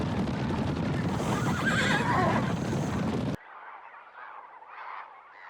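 Wild horses in a herd give loud, close neighs and whinnies over dense noise for about three seconds, then the sound cuts to a fainter, distant stretch of whinnying.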